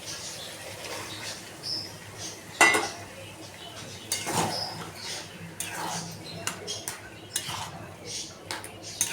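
Boiled lentils are added to pointed gourd in a pot and stirred, with scattered metallic clinks and scrapes of a spoon against the pot and soft sizzling, close by, with a voice speaking between the sounds.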